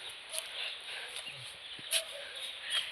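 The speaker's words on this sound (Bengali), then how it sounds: "পাখির ডাক শোনা যাচ্ছে কিছু কিছু" Birds call in a forest along a road from Dhotrey to Mazuwa: sparse, faint high chirps scattered through a quiet woodland background, some distant.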